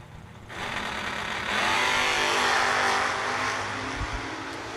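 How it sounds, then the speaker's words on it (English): Camaro and Nova drag racing cars launch at a $100K drag race event, a loud broadband engine roar that swells after half a second and holds steady to the end, with no talk. "602 the dial for McKay's Camaro. 613 the number for Harville and the Nova."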